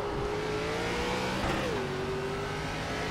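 A race car engine holds a steady drone, dips briefly in pitch through a corner in second gear, then climbs again, loud and continuous with no talk.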